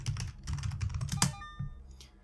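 Rapid keystrokes clatter on a computer keyboard during a typing-based indie horror game, a quick uneven burst of clicks close to the microphone.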